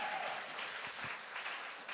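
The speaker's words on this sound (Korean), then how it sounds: "이분들에게 박수와 영광 올려드립니다." Church congregation applauding its worship and media teams during an online prayer gathering, heard as a faint, steady wash of clapping with no break for the full two seconds.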